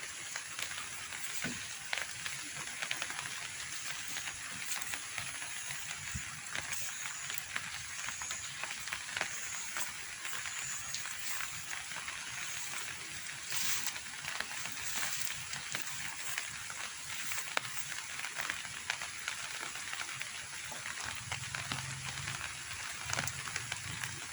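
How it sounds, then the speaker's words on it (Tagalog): Rain patters steadily on a surface on a farm, a soft continuous hiss dotted with scattered drips, fairly quiet throughout. "Maulan-ulan dito guys. Isang linggo nang umuulan."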